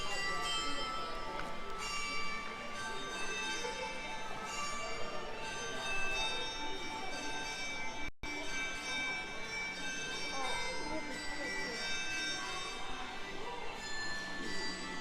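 A bell rings out with sustained, shimmering tones over steady street ambience in Osu Kannon district, Japan, with a busy background and faint voices throughout.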